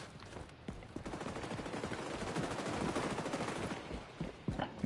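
Rapid automatic gunfire in the shooter game XDefiant, a long rattling burst of shots that swells toward the middle and then trails off into a few scattered shots, with no voices.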